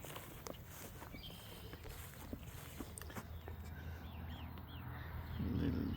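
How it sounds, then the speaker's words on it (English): A blackbird gives a few faint calls among scattered clicks and soft footsteps on a ranch walking trail, with a louder rustle near the end. "Oh, that's a blackbird."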